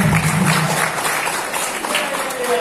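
A crowd at an anti-drug student pledge event applauds, a dense wash of clapping heard fairly loud, with a voice briefly audible at the start.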